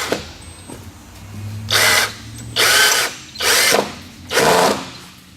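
A power drill drives a screw into wood while building a chicken tractor, heard as four loud, close whirring bursts of about half a second each with short pauses between them, plus a faint low hum before the first burst.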